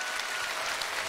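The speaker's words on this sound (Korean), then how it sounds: "또 박수 주시고 나오세요." Studio audience clapping on a Korean TV singing contest held in Yeoncheon, Gyeonggi Province, a brief dense burst of applause, loud and steady with no speech.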